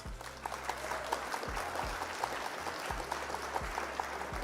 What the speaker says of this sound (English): Round of applause for Red Baron though.